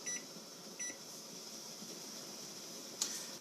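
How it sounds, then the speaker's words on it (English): Kitchen timer set for a canning batch, giving two short faint beeps near the start and a brief brighter chirp about a second before the end, over a steady low room hum. "And now we set our timer for 15 minutes."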